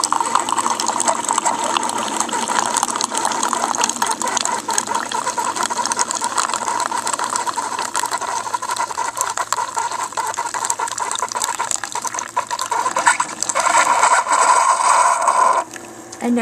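A loud, continuous rattling gurgle of a tea machine dispensing hot tea, close up and unbroken, with a faint tonal beeping near the end.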